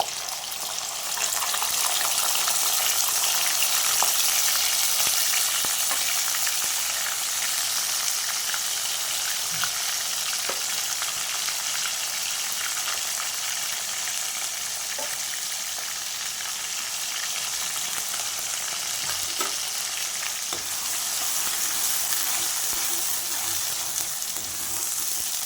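Green chillies and onion paste frying in hot oil for a Kerala-style chicken curry, a steady, loud, close sizzle that runs unbroken throughout with faint clinks of stirring and no talking.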